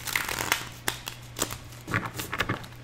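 Tarot cards gone gummy from humidity are shuffled by hand in a few quick, papery riffling bursts, close and fairly soft, with brief pauses between them.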